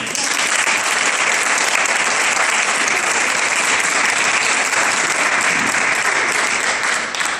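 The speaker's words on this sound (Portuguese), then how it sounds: "Uma salva de palmas." A crowd claps loudly and continuously, a dense, sustained round of applause with no break.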